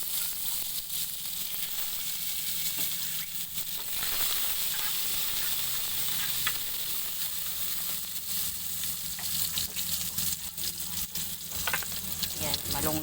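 Malunggay leaves and shrimp frying in a hot pan, a loud continuous sizzle and hiss with rustling stirring throughout and occasional sharper pops.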